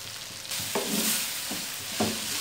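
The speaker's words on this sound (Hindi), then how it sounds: "शिमला मिर्च को भी थोड़ा सा फ्राई करना है ताकि ये भी थोड़ी सी सॉफ्ट हो जाए" Bell pepper frying in a pan for a chicken pasta with white sauce, a steady soft sizzle with a few spoon stirs and scrapes scattered through it; nobody speaks.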